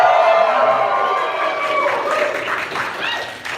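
At a Darkwing Duck comic and TV convention panel, an audience cheers and applauds, a broad wash of clapping and whoops that swells, then fades slightly near the end.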